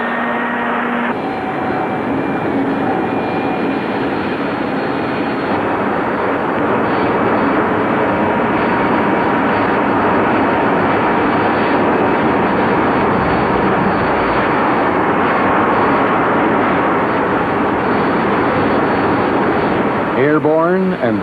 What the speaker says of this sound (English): It features Canada's jet formation aerobatic team,